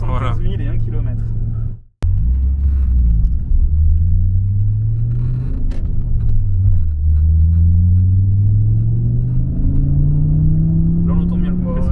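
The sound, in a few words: Audi S2 engine and compressor accelerating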